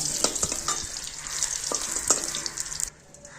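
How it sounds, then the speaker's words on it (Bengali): Aubergine slices frying in oil in a wok, a close, steady crackling sizzle with a few stirring clicks that cuts off abruptly near the end, leaving quiet background. "এই বেগুনগুলি আমি কড়াই থেকে এবার তুলে নিলাম"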